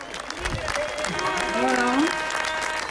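An audience applauds at a gathering, the clapping continuous and moderately loud. A speaker's voice talks over the applause.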